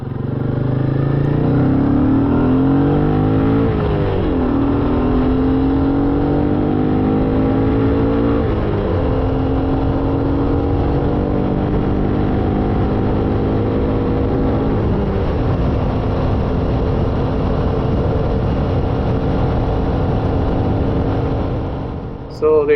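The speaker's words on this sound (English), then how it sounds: "let's see how quick it goes through every gear without hitting the rev limiter either" A Royal Enfield Classic 350 Reborn motorcycle with a refitted 16-tooth gearbox sprocket accelerating flat out through every gear, its engine note climbing, dropping at each shift and climbing again, loud and steady under wind roar.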